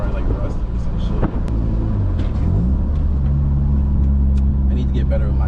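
Honda Prelude driving at speed, its engine and road rumble forming a loud, steady low drone with rising tonal engine notes as it accelerates, heard from inside the car with a voice talking over it.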